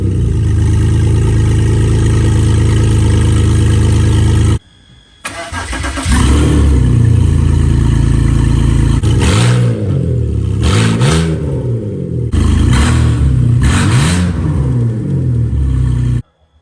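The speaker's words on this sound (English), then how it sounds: "Now we're gonna do the most important thing, which is to fire the car up and heat it with open headers" A 2005 BMW X3 engine with open headers starts and runs loud and raw close by, stopping briefly, then restarting with a rough idle and several sharp revs before cutting off.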